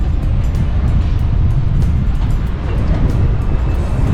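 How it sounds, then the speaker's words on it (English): Gusty wind batters a microphone outdoors at the port of Callao in Lima, Peru, producing a loud, unbroken low roar that swells and dips slightly. "It's windy here. Can you hear that wind noise?"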